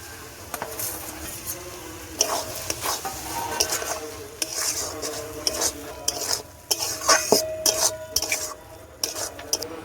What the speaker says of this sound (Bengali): সবকিছু একসঙ্গে ভালো করে কষিয়ে নেব। দিয়ে দেবো ভেজে রাখা চিংড়ি মাছ